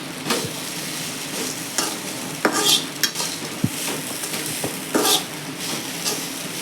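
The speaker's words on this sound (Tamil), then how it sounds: "எல்லாத்தையும் நல்லா கிளறி விட்டுக்கலாம்" Red poha upma with salt and grated coconut being stirred in a pan, a quiet sizzle under repeated scraping and clinking strokes of a spoon against the metal, with no talking.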